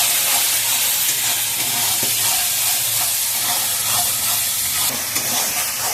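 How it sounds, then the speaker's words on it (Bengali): Spice paste for goat head curry sizzles hard in a pan with a loud, steady frying hiss and faint stirring scrapes, and no voice is heard. "দিয়ে আমি মশলাটাকে এবার ভালো করে কষিয়ে নেব।"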